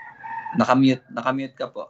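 A rooster crows in one drawn-out call, close and fairly clear, tangled with a person talking at the same moment.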